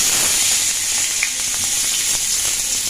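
Barnyard millet (shyama rice) frying in hot ghee in a pan, a continuous bright hissing sizzle, loud and close, with a few faint clicks and no voices.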